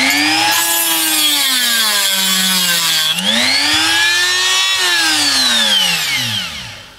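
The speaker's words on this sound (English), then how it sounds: "hold the Dremel in a fixed position like this and actually move the can to actually cut into there" A Dremel rotary tool cuts into a metal can, giving a loud, continuous high whine. The pitch sags and rises as the can is pushed against the fixed cutting wheel, then the whine tapers off at the end.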